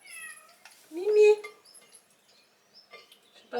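A cat meows once, clear and fairly close, with a few softer rustling sounds before and after in an otherwise quiet room.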